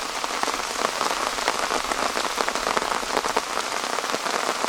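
Rain falls on a tipi, a dense, continuous patter of drops drumming on the canvas, close and even throughout with no voices.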